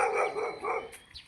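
A dog barks behind a fence on an early morning neighborhood walk, a couple of hoarse, moderately distant barks blending into each other.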